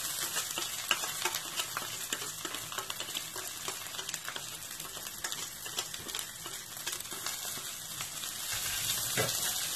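Rice being stirred with browned vermicelli in a pan, a steady scraping and shuffling over a continuous sizzle, close and moderately loud throughout, with no voices.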